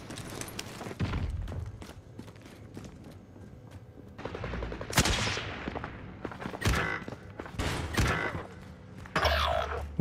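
Gunshots ring out during a Call of Duty match, sounding as scattered sharp cracks and short bursts, some close and loud, others more distant, mixed with thuds and mechanical clatter.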